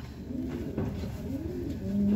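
A checkered racing pigeon from Pio Duran, Albay, back from a derby race, gives soft, low repeated coos close by, a steady murmuring call running through the short stretch with no talk.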